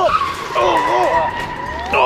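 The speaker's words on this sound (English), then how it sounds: "you're putting the brakes way too quickly there, Captain Bobbo" A quad bicycle brakes hard and too abruptly, giving a short, loud tire skid and squeal with rising and falling whine over about two seconds.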